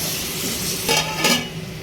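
Capsicum and ginger garlic paste fry in a pan with a steady, close sizzle, broken by a couple of brief stirring scrapes.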